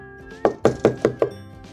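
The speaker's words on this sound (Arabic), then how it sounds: "من يدق على الباب؟" Five sharp knocks on a door land in a quick, even rhythm, near and clear against a quiet background.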